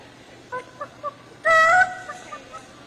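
A person imitates a chicken at a youth fair, giving a few short clucks and then one longer, louder honking squawk, with a couple of faint clucks after it.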